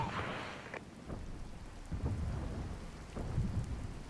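Rain pours steadily in the video game Regiments while thunder rumbles low and distant in several rolling swells, a continuous storm wash with no voices.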